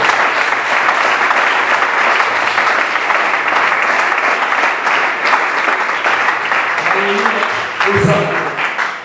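A church congregation applauds loudly and continuously, a dense wash of clapping with a few faint voices rising near the end.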